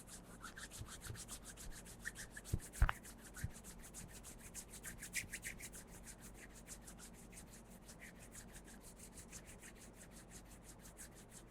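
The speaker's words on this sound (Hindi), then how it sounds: "आराम से हथेलियां रब करेंगे" Palms rub together steadily during a yoga session, a soft, close, continuous swishing friction with regular strokes and a few faint taps, quiet and with no talk.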